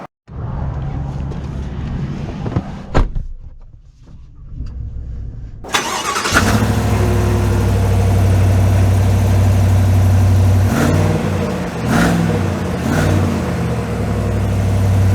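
A 2023 Chevy Silverado Trail Boss pickup with a 6.2L V8 engine cranks and fires up with a loud rise, settles into a deep steady rumble, then revs as the truck pulls away, after quiet cabin noise and a brief clunk.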